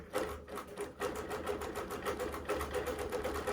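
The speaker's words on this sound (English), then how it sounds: "the computer will tell the machine what to stitch and where, and the machine will just stitch out this design" A computer-guided quilting machine stitches a pantograph design on a scrappy Trip Around the World quilt, giving a rapid, steady mechanical needle chatter that runs continuously at moderate distance.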